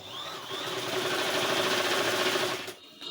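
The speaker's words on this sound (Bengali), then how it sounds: "এভাবে করে পুরোটা গলা সেলাই করে নেব" A sewing machine runs steadily, stitching the gathered neckline of a baby frock, a continuous close mechanical whir that stops abruptly near the end.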